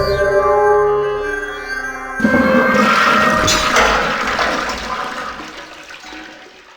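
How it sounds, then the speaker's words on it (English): A toilet flushes in the video game Killer7, a loud rushing gurgle of water that surges after a brief tonal lead-in and slowly drains away, heard alone with no talking. "I flush a toilet to get an odd engraving that will help me advance further."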